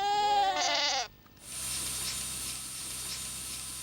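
A crossbred milking goat lets out one loud, wavering bleat up close, followed by a steady hiss of background noise.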